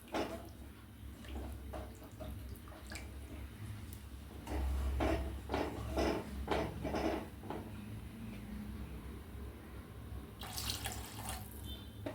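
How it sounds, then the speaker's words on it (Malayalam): Boiled water poured into a pot of tomato sardine curry, a steady faint splashing stream with a few soft clinks and no talk. "ഇനി നമുക്ക് ഇതിലേക്ക് തിളപ്പിച്ച വെള്ളം ഒഴിക്കാം."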